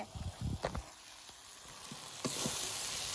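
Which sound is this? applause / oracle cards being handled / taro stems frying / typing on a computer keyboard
taro stems frying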